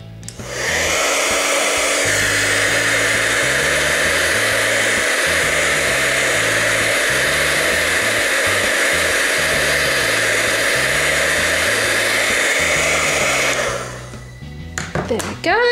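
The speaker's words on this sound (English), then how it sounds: "I'm just going to use the heat tool again to set the" A handheld heat tool blows hot air steadily and loudly to set dazzling diamond embellishments on a sweetheart pouch holder craft, a continuous whooshing roar lasting about thirteen seconds before switching off, with faint speech underneath.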